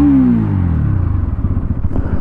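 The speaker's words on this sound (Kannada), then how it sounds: "ಎಕ್ಸಾಸ್ಟ್ ಸೌಂಡ್ ಈ ತರ ಇದೆ" Close-up exhaust of a Bajaj Pulsar NS200 motorcycle: a falling revved note that settles into a low, rhythmic, throbbing idle burble, loud and steady throughout with no talking.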